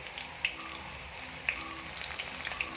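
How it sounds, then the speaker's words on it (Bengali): Small shrimp and lentil fritters fry in hot oil with a soft, continuous bubbling sizzle and scattered light pops, close and fairly quiet. "এরকম করেই আমাদের সমস্ত বড়াগুলোকে ভেজে নিতে হবে"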